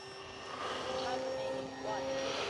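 Electric motor of an FMS Kingfisher 1.4 m RC model airplane at full throttle gives a steady whining drone that rises in pitch, mixed with wind rush, with faint muffled talk.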